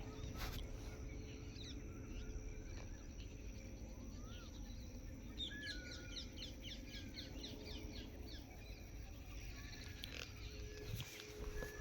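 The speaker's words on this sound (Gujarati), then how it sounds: "તમને ચકલાનો અવાજ પણ સંભળાતો હશે" Sparrows chirp in scattered short bursts, moderately distant, over a steady drone of insects and outdoor background noise in a millet field being irrigated.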